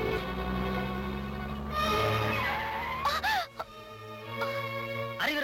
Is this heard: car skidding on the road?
yes